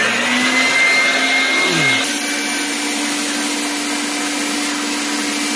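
A vacuum cleaner sucks the inner tube away from the tire of a Janus Gryffin 250 motorcycle, making a loud, steady, close whine that shifts pitch slightly about two seconds in and then holds.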